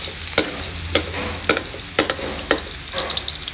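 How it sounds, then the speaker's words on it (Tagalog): Garlic sautéing in a pan, kept from browning, with a steady sizzle and several sharp utensil clacks of stirring spaced roughly every half second. "Sasaute natin ang garlic."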